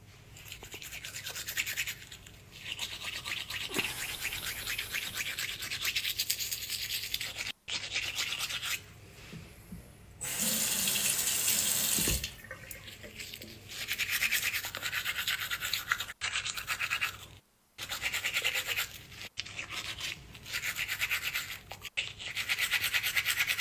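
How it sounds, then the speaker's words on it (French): Someone brushing teeth at a sink, with bursts of scrubbing bristles broken by short pauses and a brief louder rush like running tap water in the middle, fairly close and quiet overall. "Toujours, il faut se brosser les dents."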